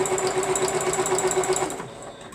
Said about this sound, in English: And I gotta sew it slower because it's bigger.